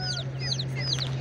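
Chickens and roosters at a busy poultry market in Sungurlu, Çorum, cluck and call in quick overlapping bursts over a low steady hum, fairly close, with no clear talk.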